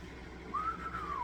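A person attempts a whistle over steady fan noise indoors, producing a thin, wavering tone that starts partway through and rises and falls for under a second, faint and unsteady.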